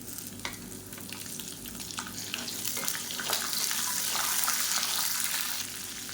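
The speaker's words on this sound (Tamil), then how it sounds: "இப்போ வெங்காயம் வதங்கிட்டு இருக்கையிலே புளி சேர்த்துக்கலாம்" Small shallots (pearl onions) sautéing in a pan for Tamil onion thokku, a steady bright sizzle with occasional stirring scrapes, growing slightly louder midway and continuing without speech.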